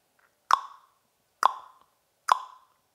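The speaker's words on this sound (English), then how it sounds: "you could do the pop sound" Three sharp tongue pops made by snapping the tongue off the roof of the mouth, evenly spaced about a second apart, close and crisp, each with a short hollow ring and no talking.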